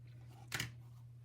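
Scissors making a single quick, crisp snip while trimming a little more off a handmade greeting card, heard close and alone against a quiet room with a steady low hum.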